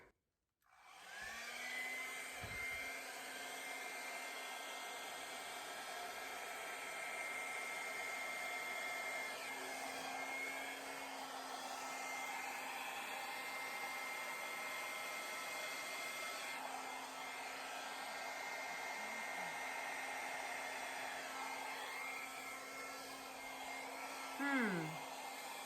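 Steady, continuous whoosh of a hair dryer blowing air across acrylic pour paint, holding at an even level throughout with a brief louder puff near the end.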